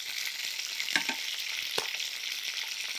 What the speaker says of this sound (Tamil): இது லைட்டாக என்ன செய்யணும், ஒரு 2 நிமிஷம் வறுத்து எடுத்துடலாம்